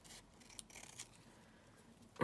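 Scissors trim the edge of a small paper flippy pad in a few quiet, close snips and rustles, ending in a louder crisp cut, with no voices.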